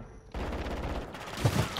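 Brief burst of rapid gunfire in a shooter video game, a loud dense rattle starting abruptly and continuing to the end without speech.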